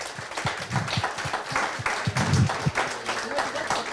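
Small gathering applauding at a community event, claps loosely spaced and close, with voices talking over and between them throughout.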